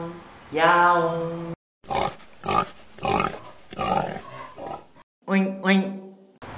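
Someone imitates a pig oinking, producing a string of grunting, snorting syllables followed by two higher squeals, close up with speech-like voice in between.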